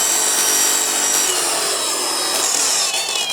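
Dongcheng DCSP02-180 polisher spinning at its 3000 RPM maximum, a smooth steady high whine with a faint shifting pitch, close and continuous with no talking.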